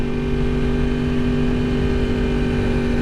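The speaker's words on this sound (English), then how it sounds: "like that first pull, it's literally like I'm shifting so fast on this bike" Yamaha R1S superbike engine held at a steady, loud near drone with strong low harmonics, a continuous pull through quick gear changes with no clear breaks, and no talking.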